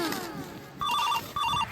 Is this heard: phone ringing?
yes